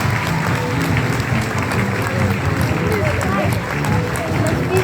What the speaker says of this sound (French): Vos applaudissements pour Romain.